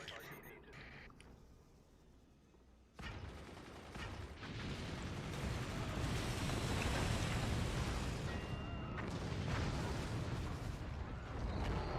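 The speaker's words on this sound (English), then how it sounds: "The nuke makes it this time. That's a lot of damage." A nuclear missile slams into a fort in the real-time strategy game Forts during a pro league playoff match: after a quiet start, a loud broadband blast erupts and keeps rumbling and crackling to the end, with a commentator talking over it.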